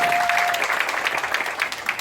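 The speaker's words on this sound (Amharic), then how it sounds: "አንዴ ደግሞ ሞቅ ያለ ጭብጨባ ወደ ቦታ።" Warm applause from the audience at a Wollo association's tenth-anniversary celebration in Las Vegas: full, sustained clapping throughout, with a brief steady tone at the start.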